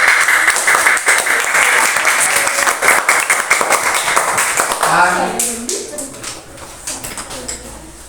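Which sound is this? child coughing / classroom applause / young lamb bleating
classroom applause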